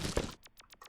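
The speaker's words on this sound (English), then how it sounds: "There was an explosion." Explosion in the video game Yume 2kki: a loud, broad burst of crunching noise lasting about a third of a second, followed by a few quick, sharp crackling bursts that fade out.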